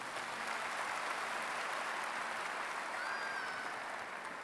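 Large crowd applauding at the North Carolina A&T State University 2017 spring undergraduate commencement, a dense, even wash of clapping that holds steady throughout, with a faint whistle-like tone near the end.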